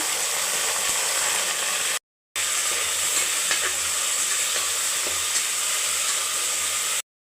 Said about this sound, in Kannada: ಈರುಳ್ಳಿ ಈರುಳ್ಳಿ ಎಲ್ಲ ಚೆನ್ನಾಗಿ ಫ್ರೈ ಮಾಡ್ಕೊಬೇಕು ಕ್ಯಾಪ್ಸಿಕಮ್ಮು ಟೊಮೊಟೊ ಹಾಕ್ತಾಯಿದ್ದೀನಿ